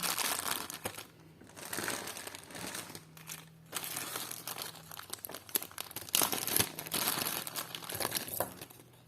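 Steady, close crinkling and rustling of a plastic bag, continuous and fairly loud with sharper crunchy moments throughout.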